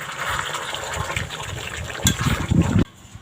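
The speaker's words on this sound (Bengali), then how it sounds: "এবার একটু জল দিয়ে দেব" Water poured from a vessel into chicken curry in a pan, a steady gushing splash that grows heavier near the end before stopping abruptly.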